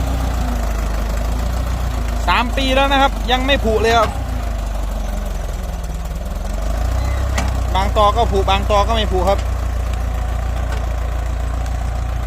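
A Ford 6640 tractor running steadily while pulling a seven-disc plow, its low engine drone continuous throughout with someone talking over it in two stretches.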